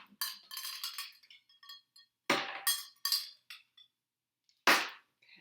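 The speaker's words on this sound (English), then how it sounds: "I'm just dumping them in the sink here." Ice cubes dumped from a container into a sink, clattering and clinking in several loud bursts with sharp impacts and brief gaps between them.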